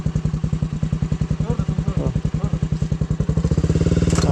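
A Hero Splendor motorcycle engine putters steadily close by with a fast, even rhythm of exhaust pulses, and faint voices underneath.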